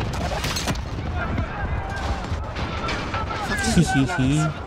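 A Call of Duty Modern Warfare campaign explosion set off by a planted charge, heard as a dense, loud burst of blast and rumble mixed with gunfire-like crackle, with voices talking over it.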